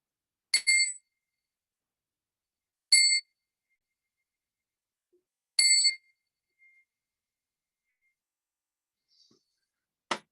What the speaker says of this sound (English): I'm going to ring my bell 3 times.